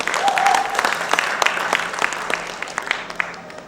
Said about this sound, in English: So ladies and gentlemen, give her a big round of applause.